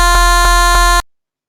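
A bass saw synth in BandLab with EQ set near 43 for a ZAAG/microwave kick, playing as a loud, steady buzzing tone with three evenly spaced pulses before cutting off abruptly.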